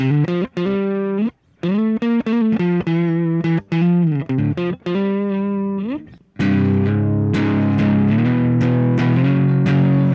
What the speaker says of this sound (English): I have the Proco Rat, which is my favorite distortion pedal.